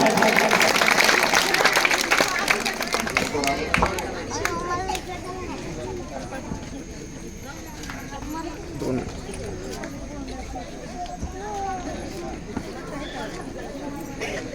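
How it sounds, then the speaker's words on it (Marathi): Applause honouring a teacher at a village school abacus prize event, a burst of crowd clapping at the start that thins into scattered claps under an announcer's voice and crowd murmur. "त्यांच्या या कामासाठी एकदा जोरदार टाळ्या झाल्या पाहिजे"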